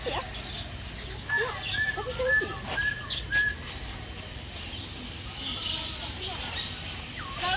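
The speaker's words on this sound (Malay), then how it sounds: "Zah, ada burung tu datang ke awak" Birds at Johor zoo give thin, scattered chirps over steady background noise. People talk nearby.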